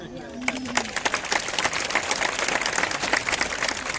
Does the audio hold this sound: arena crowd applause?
yes